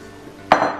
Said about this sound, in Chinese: 先把干的放到搅拌机